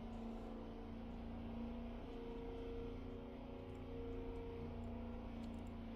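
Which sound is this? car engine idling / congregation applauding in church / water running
car engine idling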